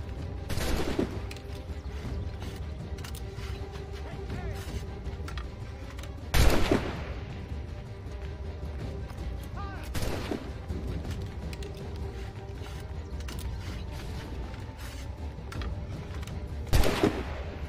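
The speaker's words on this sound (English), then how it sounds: "Shoot the remaining guards on the roof." Gunfire in the video game Assassin's Creed III as guards on a roof are shot, with four sharp, loud musket-like shots spaced several seconds apart over steady background ambience.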